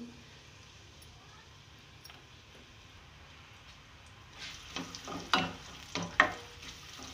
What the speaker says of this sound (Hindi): ऑयल हीट अप हो गया और अब इसमें मैं प्याज डाल रही हूँ।